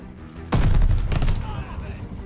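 A burst-fire weapon shooting in the Call of Duty Vanguard video game: a loud, close rapid volley of shots cracking out at once, followed by a short echoing tail.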